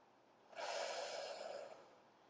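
A single slow breath during a yoga session, a soft, airy rush of air lasting about a second that rises and fades gently against quiet surroundings.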